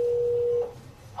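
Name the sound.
telephone call being placed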